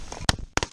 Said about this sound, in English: Shoot the far left bird, Kobe.